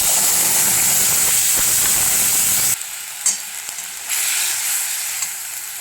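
Bay leaves and dried red chillies dropped into hot oil left from frying fish, a loud continuous sizzle that cuts to quieter crackling, then swells again with scattered pops.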